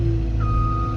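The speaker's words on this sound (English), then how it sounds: "Oh God, the backup alarm!" A backup alarm on a Caterpillar 315F excavator moving big tree stumps sounds a steady tone over the loud, constant rumble of the diesel engine close by.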